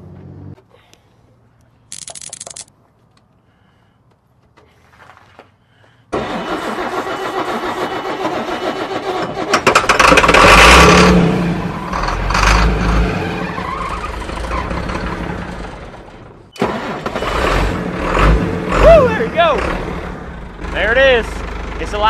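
A Ford 7.8 liter engine is quiet at first, then cranks and fires with a loud roar and revs up and down in surges, while people talk close by over the engine noise.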